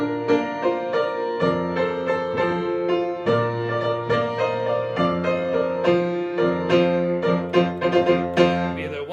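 Invented mock hunting music in a lilting compound triple meter, built on simple tonic and dominant harmony: rhythmic, galloping chords repeat in a steady, bouncy pattern for several seconds without any voices.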